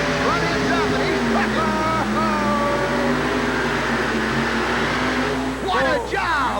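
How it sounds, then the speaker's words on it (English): The Black Attack monster truck with a big blown Hemi engine roars through a truck pull at a 1988 arena event, loud sustained engine drone with shifting pitch, while an announcer talks over it throughout. "Black Attack, Dennis Marson in the saddle. Big blown Hemi out of the hood. He's into it."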